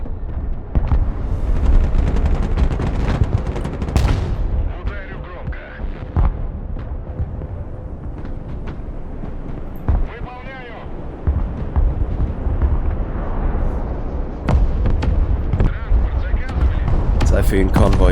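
Artillery barrages and gunfire crack and boom without a break in the multiplayer war game Broken Arrow, heavy blasts layered over rattling shots, while a player talks throughout.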